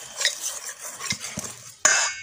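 A utensil stirs bakpau cake batter after baking powder is added, scraping and lightly clinking against the bowl in uneven strokes, then ending with a sharp knock near the close.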